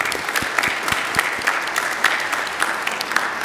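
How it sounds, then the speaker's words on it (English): Applause at a university convocation for academic deans standing in recognition: a moderate crowd clapping steadily, with a few sharp, distinct claps standing out close by amid the wash. "Let's give them a round of applause."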